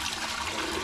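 Water rushing and gurgling as it flushes through the hot water tank of a water cooler during cleaning, a short steady close-up burst of flowing liquid.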